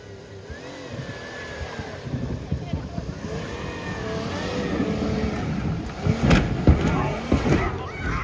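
A gray minivan races through bumps and hops on a dirt track at a tuff truck event, its engine roaring and revving steadily with rising surges, mixed under loud commentary and crowd noise.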